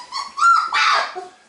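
A four-week-old female puppy whimpers close by in two or three short, high, plaintive cries with brief yips, alone with no talking.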